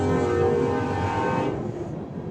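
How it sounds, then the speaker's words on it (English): A train passes close by, a loud steady rumble of rail cars with rich tonal whine that fades slightly toward the end, heard alone without talk. "I'll let the train go by before I continue to speak."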